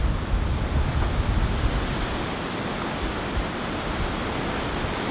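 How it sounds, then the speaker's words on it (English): Strong wind blows through trees outdoors in the Budawangs, a dense, steady roar of rushing air with gusty buffeting close to the microphone and no voices. "she's super windy out there"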